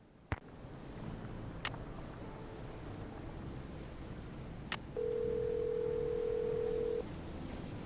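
A phone in the Nancy Drew game Creature of Kapu Cave gives a single steady beep tone over faint outdoor ambience with soft waves, preceded by a few sharp clicks.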